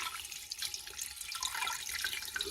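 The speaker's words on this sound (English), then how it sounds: "I've got 4 cups of water in a measuring cup, and I'm going to put just enough water" Four cups of water pour from a measuring cup into a cooking pot over a corned beef brisket, a steady close splashing and trickling stream running for a couple of seconds.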